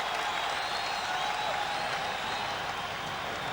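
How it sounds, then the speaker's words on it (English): A basketball crowd in an arena roars and applauds continuously for the Warriors during a 1991 regular-season game, a dense, sustained wash of cheering with no clear gaps. "And the crowd exhorting the Warriors again."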